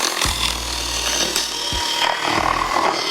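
A Ryobi USB lithium power cutter, model FVC51K, slices through plastic packaging holding drill bits, giving a close, steady buzzing motor whir in two long passes with brief scraping and rustling between them.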